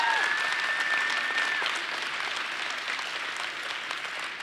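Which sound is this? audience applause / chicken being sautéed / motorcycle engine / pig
audience applause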